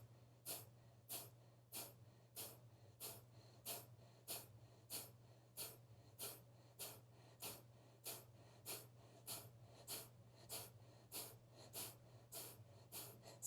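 Kapalabhati yoga breathing: a long run of about twenty forceful, evenly paced nasal exhales, sharp puffs close to the microphone over a steady low hum.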